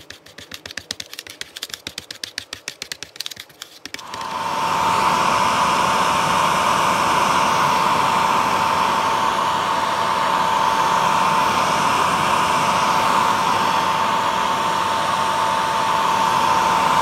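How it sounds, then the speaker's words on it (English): A hair dryer, used on a plastic model kit, switches on after a few seconds of quiet clicking and then blows steadily and loudly, a constant whooshing roar with a steady whine. "It's a couple of minutes with a hairdryer."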